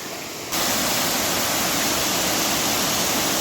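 The waterfall at Sillans-la-Cascade roars as a loud, steady, broadband rush of falling water that cuts in abruptly after half a second and continues unbroken, close by, with no speech.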